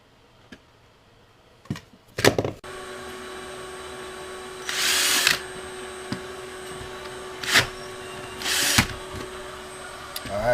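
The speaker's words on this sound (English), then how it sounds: "Alright, got my hole drilled." A power drill bores a hole through bathroom flooring about 1.75 inches thick, coming in several short whirring bursts separated by pauses, over a steady low background hum.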